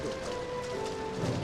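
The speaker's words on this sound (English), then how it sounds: "I'm not sure this rain looks very nice." Steady rain falling in the Final Fantasy XIII-2 game, a soft even patter with a faint tonal background hum throughout and no speech.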